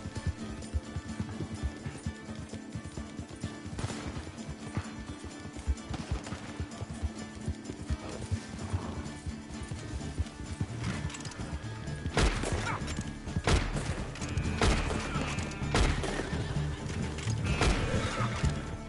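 A horse gallops in the Red Dead Redemption 2 multiplayer game, with hoof clip-clops, crashes and whacks mixed into the steady game soundscape, and no speech.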